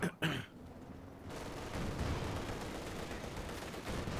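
Gunfire from the World War II strategy game Company of Heroes 2, a few sharp shots at the start, then a dense, steady wash of battle noise with no talk over it.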